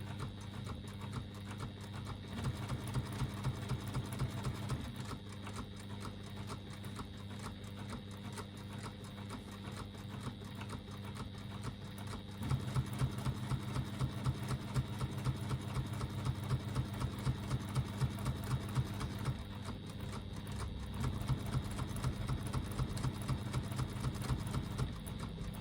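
A sewing machine stitching a fabric strap, running as a steady rapid mechanical chatter that continues throughout, briefly easing and then picking up louder again, with no one talking.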